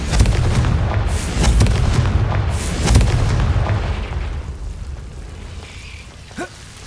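Deep booming blasts from the Confringo fire spell in Hogwarts Legacy, several heavy explosions in the first few seconds rolling out into a fading rumble.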